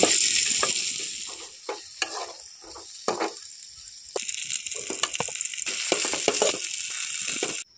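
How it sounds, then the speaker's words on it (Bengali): Pointed gourd (potol) pieces frying in oil in a kadai, with a steady sizzle broken by repeated sharp clinks and scrapes of stirring, close and fairly loud throughout. "পটলগুলো খুব সুন্দর করে তেলের মধ্যে ভেজে নেব"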